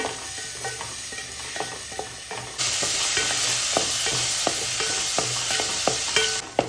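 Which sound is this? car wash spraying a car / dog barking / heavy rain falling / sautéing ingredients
sautéing ingredients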